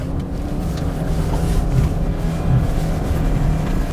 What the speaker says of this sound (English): Fully floorboarded in first gear.